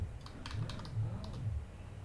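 Quick run of soft computer keyboard keystrokes, a handful of close, light clicks tapped out in an irregular rhythm in a quiet room.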